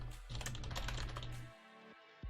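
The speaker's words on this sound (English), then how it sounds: "I keep pressing tab" Rapid typing on a computer keyboard in a terminal with repeated tab presses, a dense run of close clicking keystrokes that stops abruptly, followed by a couple of isolated clicks.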